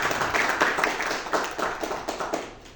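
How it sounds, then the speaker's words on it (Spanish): Audience at a literature school lecture on Peruvian theatre applauding to welcome the speaker, a modest, close group of claps with uneven rhythm fading toward the end. "Lo recibimos con un fuerte aplauso a Carlos Vargas Salgado."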